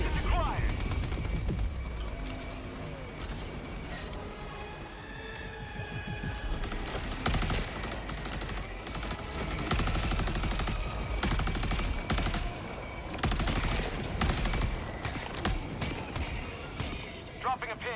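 An orbital strike in Helldivers pounds the battlefield, with dense, continuous explosions and gunfire rumbling through the whole stretch while players talk over the chaos.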